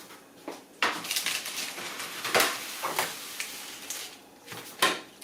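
An apple pie being shifted onto a metal sheet pan in a home kitchen, with several scattered clanks, scrapes and knocks of metal and dishware, fairly close and loud, with no talking.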